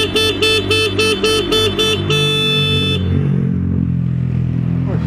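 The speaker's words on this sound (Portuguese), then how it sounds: "Vou buzinar." A vehicle horn honks during a Saturday-night pizza delivery: a series of about seven short, evenly spaced toots, then one longer sustained blast, loud and close over a low idling engine rumble.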